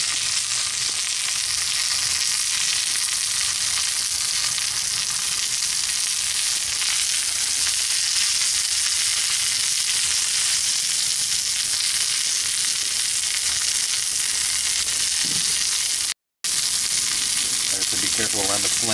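Bison burger patties sizzle in oil on a grill, giving a loud, dense, continuous crackle that barely changes, broken only by one very brief dropout near the end.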